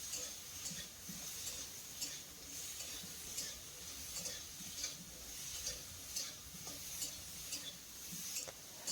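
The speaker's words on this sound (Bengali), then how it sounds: "এখন এই আলুটাকে হালকা একটু লাল লাল করে ভেজে নেব। গ্যাসের ফ্লেমটা মিডিয়ামে রেখে এইভাবে আলুটাকে ভেজে নিতে হবে।" Potatoes fry in a pan over a medium gas flame, a steady sizzle broken by frequent light scrapes and taps of a spatula stirring them, close up and without speech.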